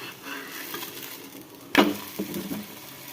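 Sabudana paratha being flipped on a griddle, a sharp clatter followed by a soft sizzle and a few light scraping taps, fairly quiet and close.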